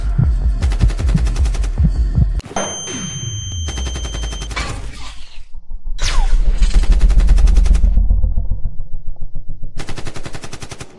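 Gunfire in the mobile shooter Sniper 3D comes in loud rapid bursts separated by short pauses, with a sharp shot ringing into a long low echoing tail and a rising, pulsing rumble later.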